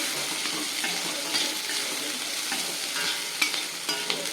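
Onions being stirred and sautéed in a pan for a kodo millet and banana-flower adai, a steady close sizzle with scraping spoon strokes and small sharp clicks, heard alone without talk.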